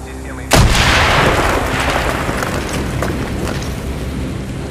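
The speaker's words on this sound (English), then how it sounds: "blow a hole in that fucking wall" A loud, close explosion blows a hole in a wall during a Call of Duty Black Ops mission. One sharp blast is followed by a long, roaring rumble of debris that fades slowly. No one speaks over it.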